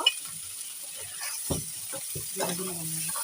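Eggplant and potato drop into a hot frying pan for a village-style koi fish curry, giving a steady sizzle and frying hiss with a few stirring scrapes.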